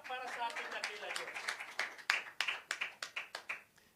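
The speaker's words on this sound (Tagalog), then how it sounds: "Maburing palakpak para sa ating dakilan Diyos." A congregation claps during a church sermon, rapid scattered clapping that settles into several steady rhythmic claps and fades out, heard under a voice speaking at first.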